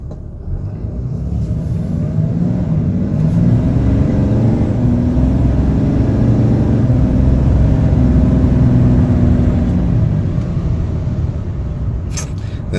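A RAM 3500 hot shot truck's diesel engine pulls under load with a steady loud rumble inside the cab, the turbo spooling up as it accelerates, with no talking over it.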